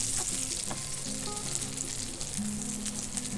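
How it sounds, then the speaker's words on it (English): A shiitake mushroom pancake fries in a pan over medium to medium-low heat, giving a steady, close, continuous sizzle with small crackles and no talking. "we're gonna cook the other side of the mushroom."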